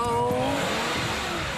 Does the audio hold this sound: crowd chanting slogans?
no